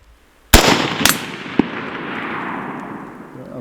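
A single loud rifle shot cracks on an outdoor range and rolls away in a long echo, with a second sharp crack and a brief distant tick following as the report fades.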